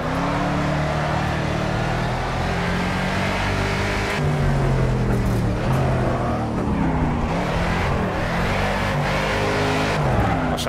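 A Mercedes 300SEL 6.8 AMG in Project CARS drives around a kart track, its engine droning steadily with pitch rising and falling through gear changes, loud and continuous with no talk.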